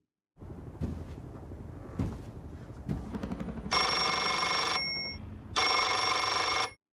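Telephone ringing in a scene from the TV series Chernobyl: two long electronic ring bursts after a few soft knocks and rustles, fairly near and alone with no talk.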